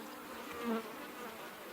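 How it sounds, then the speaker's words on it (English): Steady low insect buzzing of honeybees, a close continuous drone with a slight swell midway. "These bees are way less irritated, better behaved."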